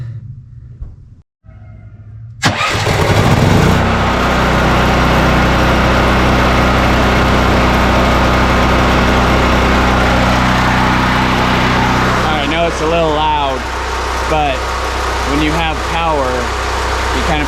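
A portable gas-powered generator starts up after a brief pause and runs loudly and steadily close by, a constant engine drone. Voices talk over it toward the end.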